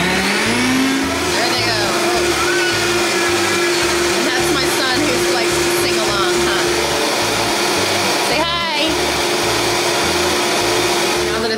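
A blender runs loud and continuous as it purees a tropical smoothie of fruit and spinach, its motor whirring with slight shifts in pitch and a faint voice underneath.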